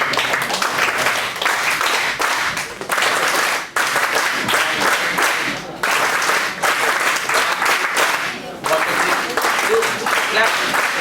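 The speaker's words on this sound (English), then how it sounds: "give the clap" An audience at a college NSS orientation programme claps in loud, dense bursts of applause that stop briefly and start again several times, with voices mixed in.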